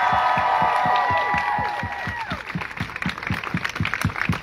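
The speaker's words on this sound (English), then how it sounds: "Let's give Sammy another round of applause." Crowd at an outdoor pro-Palestine rally in cold rain claps and cheers steadily, broad noisy applause with a shouted voice fading out early, continuing throughout.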